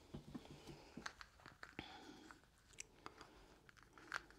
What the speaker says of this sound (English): Do you want to chew on a hand again?